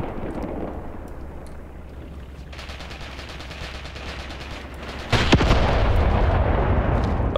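A frag grenade explodes in the Graviteam Tactics war game, a loud sudden blast near the end over a continuous rumble of battle noise and distant gunfire.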